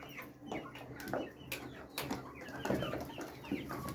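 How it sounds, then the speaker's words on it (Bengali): Several farmyard chickens cluck and chatter close by at feeding time, a busy overlapping run of short calls with some wing flutter, no talking. "কত মুরগি দেখো।"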